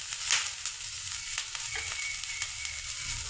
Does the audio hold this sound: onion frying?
yes